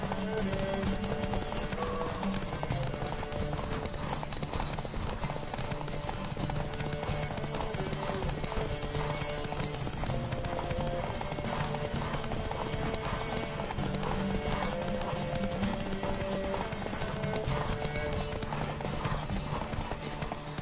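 Rapid hoofbeats of a galloping horse in The Witcher 3: Wild Hunt pound steadily throughout, with game music playing underneath and occasional voices.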